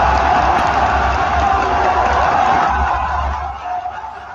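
A large esports crowd cheering at the League of Legends Worlds 2024 quarterfinals, a loud continuous roar with a low rumble underneath that holds steady, then thins and fades slightly toward the end.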